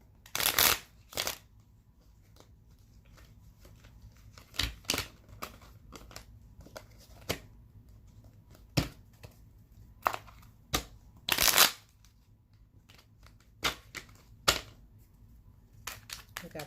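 A tarot card deck is shuffled in several quick riffling bursts, crisp and close, separated by short pauses with quiet handling in between.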